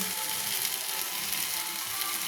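Spices sizzle in hot oil for egg kosha while being stirred, a dense, loud frying hiss with faint scraping and clicking of the spoon, steady throughout and with no voices.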